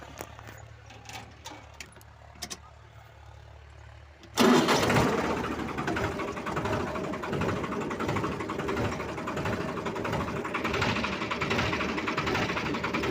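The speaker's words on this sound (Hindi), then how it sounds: "अब हम इसकी ट्रैक्टर को स्टार्ट करके रेंज मिलाएंगे" After a few sparse clicks, a tractor engine catches and starts, jumping abruptly into a loud, close, rattling idle that chugs on steadily.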